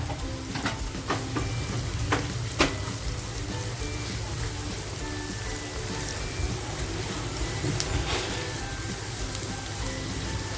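Onion frying in a pan with salt for a spicy chicken dish, a steady rain-like sizzle close by with a few sharp stirring clicks early on and faint background voices.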